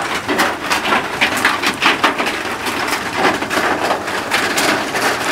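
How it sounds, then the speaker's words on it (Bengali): Steady heavy rain pours over a guava orchard, a dense continuous hiss of drops pattering on leaves and surfaces, close and loud throughout with no talking. "বৃষ্টি পড়ছে, পানি"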